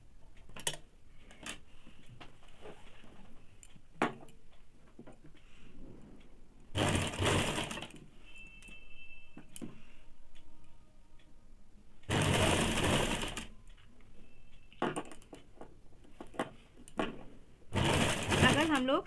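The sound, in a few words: sewing machine stitching a blouse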